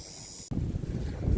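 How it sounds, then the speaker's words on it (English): Gusty wind sweeps across a lakeside campsite at a KOA in Myrtle Beach, SC. After a brief quieter moment it buffets the microphone with a low, rumbling roar. "It's gotten a little windy."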